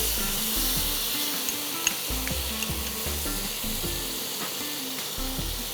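Onion paste hisses and sizzles loudly in hot oil in a pan while cooking an Afghani-style prawn curry, a steady crackling fry with soft stirring clinks.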